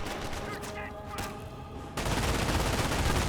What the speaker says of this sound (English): And we'll start firing away against engineers now. Get a nice little burst there.